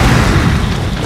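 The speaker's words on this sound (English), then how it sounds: "Time to use my grenade launcher for this big one." A grenade launcher round exploding against a large boss in Resident Evil 7, a loud, dense, rumbling boom that fills the whole moment up close.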